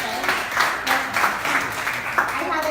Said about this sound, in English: a big round of applause to Ray and his entire team